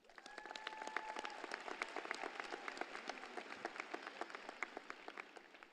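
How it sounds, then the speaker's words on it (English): Audience at a high school graduation ceremony claps steadily in a fairly quiet, distant burst of applause, individual hand claps audible in a loose, even patter for several seconds. "A round of applause for Christopher."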